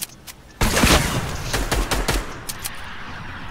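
Gunfire in the Fortnite video game rings out as a loud fusillade of rapid shots, dense bursts with several sharp individual cracks, steady for about three seconds after a short quiet start.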